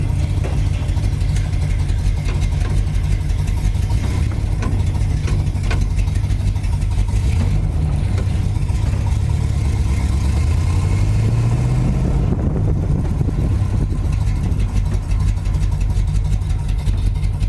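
A car engine runs in gear, a steady loud drone with a tone that slides up as it pulls and changes pitch partway through, close and continuous without speech.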